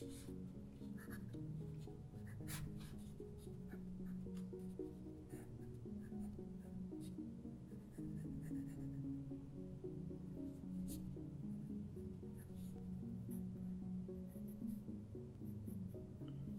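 Pencil sketching and shading in a sketchbook: a continuous dry scratching and rubbing of graphite on paper, close and steady, with small strokes and taps over a soft background hum.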